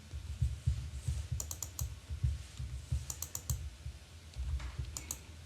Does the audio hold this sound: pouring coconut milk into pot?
no